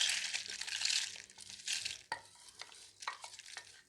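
Cooled roasted coriander seeds and spices are tipped into a stone mortar, a close, light crackling rustle and patter of dry seeds landing and shifting, with a few sharper clatters.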